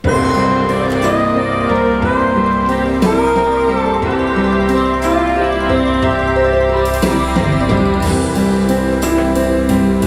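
A Lowrey organ plays its Cat Memories accompaniment style, a full, continuous arrangement of rhythm, chords and melody with accented beats, loud and steady without any voices.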